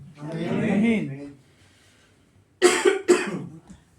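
A man preaching to a congregation clears his throat and coughs: a voiced rasp at first, then after a pause two sharp, close coughs in quick succession.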